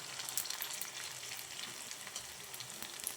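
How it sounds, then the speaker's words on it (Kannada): Rava bun dose batter poured into hot ghee in a pan sizzles and crackles steadily, a close, bright frying hiss that runs unbroken throughout. "ಈಗ ನಾವೇನು ಹಿಟ್ಟನ್ನು ತೊಗೊಂಡಿದ್ವಿ ಇದನ್ನು ಈ ರೀತಿಯಾಗಿ ಹಾಕ್ತಾಯಿದ್ದೇನೆ"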